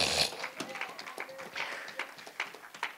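A church congregation claps in praise during a worship service, a scattered run of hand claps with voices and shouts mixed in throughout.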